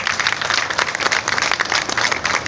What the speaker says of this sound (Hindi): मैं चाहूँगा एक दफ़ा फिर भरपूर तालियों में